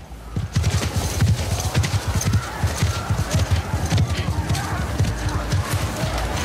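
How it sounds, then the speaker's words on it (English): Horses gallop in The Last of Us Part 2, a rapid, loud drumming of hooves pounding in a steady rhythm close by, with talking mixed in over the hoofbeats. "Abby's riding with Joel, like, thank God for these horses"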